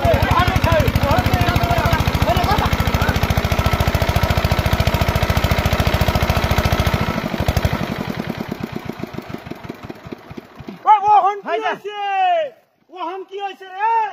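A small machine engine that keeps shutting off runs loud and steady for about seven seconds, then sputters and dies away, followed by close voices talking.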